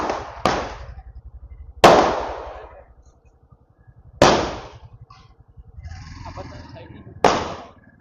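Firecrackers burst in four loud, sharp bangs spaced a couple of seconds apart, each with a crackling tail, outdoors around New Year with a low rumbling hum underneath.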